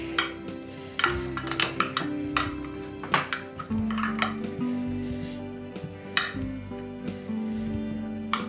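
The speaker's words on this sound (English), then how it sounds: "The metal one seems to be working better. And I'm really pressing it down firmly." A metal utensil presses a vegan Nanaimo bar base firmly into a dish, making repeated clinks, taps and scrapes against the dish at close range, with a faint tonal hum underneath.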